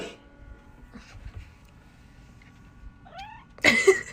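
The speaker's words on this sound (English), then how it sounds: "This cat's just looking at me like you got a problem." A cat gives a short, sharp meow close by after near-quiet moments, a rising-then-falling cry with a louder burst at the end.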